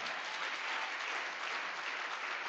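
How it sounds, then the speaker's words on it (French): A church congregation at Sunday worship bursts into sustained, dense applause and cheering, steady and enveloping throughout without a break. "Est-ce que tu peux acclamer très fort pour le Seigneur?"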